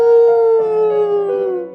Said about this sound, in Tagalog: hindi agad ako nakatulog dahil sa alulong ng aso